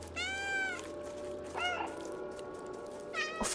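A cat meows in the video game Stray, giving a long drawn-out meow, then a shorter one and a third near the end, loud and close over a steady ambient game background hum.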